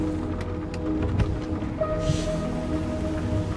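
Steady rain drums on a car in the video game Nobody Wants To Die, a constant close patter with a low rumble beneath and no talking.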